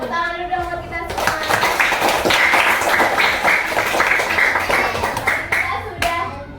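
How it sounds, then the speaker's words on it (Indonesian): A group of students claps after a classroom quiz in a digital lesson, with crisp, lively hand claps that burst in after a moment of talk and keep going under voices. "Tepuk tangan dulu dong buat kita semua."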